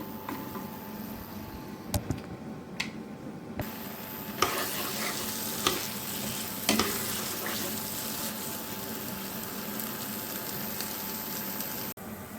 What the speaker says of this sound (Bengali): দিয়ে দেব স্বাদ মতো লবণ, হলুদ আর ঝালের গুঁড়া দিয়ে ভালো করে ঘাটকল বাটা ভেজে নেব